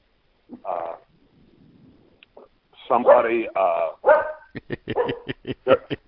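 Dogs at a home bark during an interview: a few yips, then a rapid run of sharp, fairly close barks mixed with voices talking.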